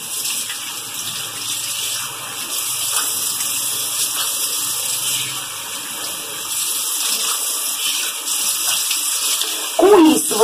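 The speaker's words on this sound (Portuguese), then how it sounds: "Primeiramente, você abre a torneira, né?" Water pours from an opened tap while curly hair is rinsed and scrunched by hand. The flow is a continuous, fairly loud rush that lasts throughout, with a brief louder splash near the end.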